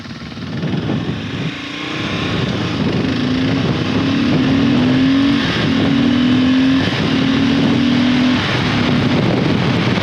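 A Kawasaki KLR motorcycle engine with a modified airbox drones loudly and continuously, its pitch rising in a few sustained revs with a resonant, throaty tone.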